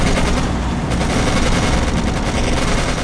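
Dense, continuous gunfire in the WWII strategy game Codename Panzers, with machine guns and rifle shots crackling in rapid overlapping bursts alongside booming blasts, loud and unbroken throughout.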